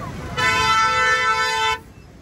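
A single loud, steady car horn blast of about a second and a half rings out in a traffic jam near Khadakwasla Dam, Pune, in heavy rain, with faint traffic noise before and after.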